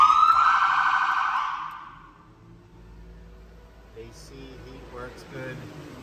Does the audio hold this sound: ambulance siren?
yes